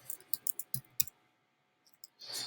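A computer mouse clicks close by in a quick irregular series of sharp, faint taps, then goes quiet before a brief burst of other noise near the end.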